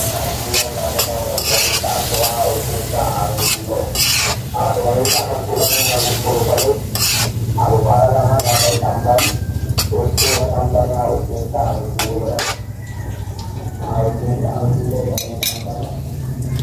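Tomatoes sizzling and frying with eggs in a pan, stirred with a utensil that scrapes and clinks repeatedly against the metal, steady frying hiss underneath and a low hum throughout.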